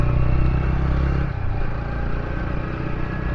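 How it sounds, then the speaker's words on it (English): TVS Ronin 225 Special Edition motorcycle engine and exhaust, a loud, steady low thrum that eases slightly after the first second and keeps rumbling. "The exhaust note on this bike is just awesome."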